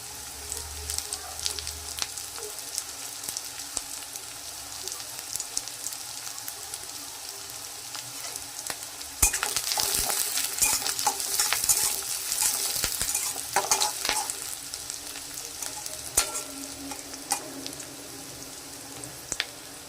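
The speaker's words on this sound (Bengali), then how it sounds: "এটা একটু ভেজে নেবো তারপর মূলো শাকটা দেবো" Onion, chopped chilies and garlic sizzle in a pan before radish greens go in. The hiss is steady and crackling, swells louder midway as if stirred, and carries scattered pops and faint utensil clinks.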